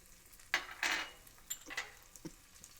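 Green pepper and ham hitting melted butter in a pan, with a soft sizzle and a few quiet clinks and scrapes of a utensil against the pan, sparse and close.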